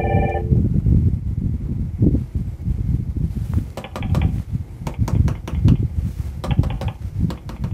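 An AddPac IP desk phone rings in short repeated electronic bursts, loud and close, with brief gaps between them over a steady background hum.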